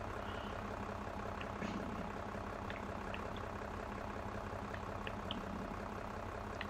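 A John Deere 9190 tractor engine idles with a steady low rumble while hitched to a Kinze planter in Farming Simulator 22, with faint high beeps and clicks scattered over the drone.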